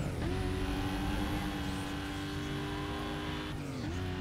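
A race car in Need for Speed Most Wanted overtakes, with a loud, steady engine drone that holds its pitch before dipping briefly near the end.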